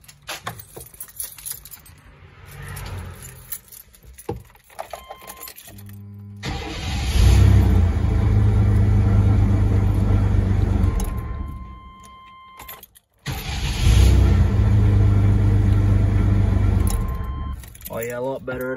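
A new starter cranks a 1994-2004 Chevrolet S10 Blazer engine over quickly in two long bursts, loud and close, with jangling and clicks before and between the attempts.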